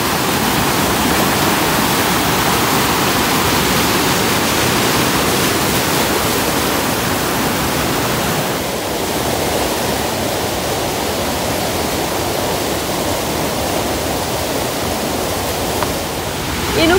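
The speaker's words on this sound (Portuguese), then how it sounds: "E tem uma caída de água aqui, muita água." Heavy waterfall at a hydroelectric plant beside a dam, a loud, continuous roar of falling water that holds steady throughout with no voices.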